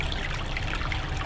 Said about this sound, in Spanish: el sonido del agua corriendo aumentó